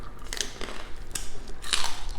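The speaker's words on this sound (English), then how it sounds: "Oh yeah, you hear that crunch?" Crunchy, still-warm chicharron bitten and chewed up close, with several sharp, crackling crunches over a steady munching background and no talking.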